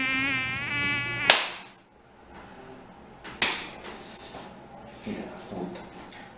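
Aedes aegypti mosquito whining with a thin, high buzz at the start, cut off by a sharp swish, followed by quieter scattered rustles and knocks.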